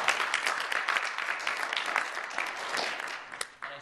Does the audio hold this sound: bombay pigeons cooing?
no